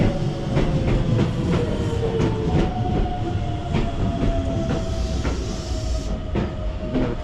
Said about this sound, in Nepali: आई थिङ्क मेरो ट्रेन आएछ चाहिँ